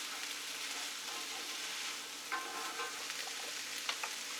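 Garlic sizzles in a cast iron pan for shakshuka, a quiet steady frying hiss with a couple of soft utensil clicks, no talking.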